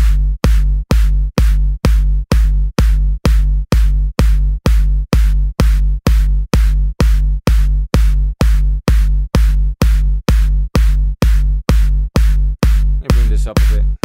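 A heavy synthesized big-room EDM kick drum pounds in a steady four-on-the-floor pulse, loud and punchy, with a brief swirling effect near the end.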